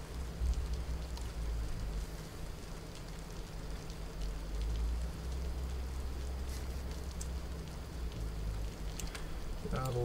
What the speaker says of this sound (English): So it looks like it's about to stop raining soon.